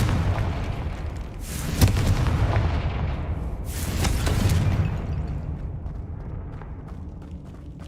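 Two booming Confringo fire spells burst in Hogwarts Legacy, each a loud explosive blast about two seconds apart, trailing into rumbling debris that fades away; no voices.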